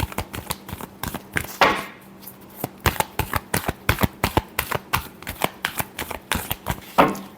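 A deck of tarot cards is shuffled by hand in a long run of sharp, rapid riffles and taps, close up and crisp, with brief pauses between bursts and no talking.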